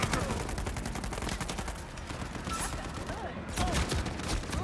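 Rapid video game gunfire rattles on in dense, continuous bursts, loud and close, with scattered shots overlapping throughout.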